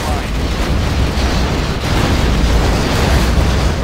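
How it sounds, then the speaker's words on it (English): Scud Storm missile strikes from Command & Conquer: Generals – Zero Hour land as a loud, steady stream of overlapping explosions and rumbling booms, sustained and dense over a few seconds, with a faint game voice mixed in. "Our Scudstorm has been launched."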